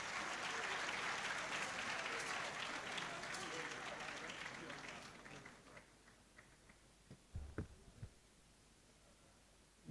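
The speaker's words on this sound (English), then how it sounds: "A round of applause," An audience at a University of Cape Coast gathering with the Vice Chancellor present bursts into loud, dense applause that gradually thins and fades out, leaving a few scattered claps and bumps near the end.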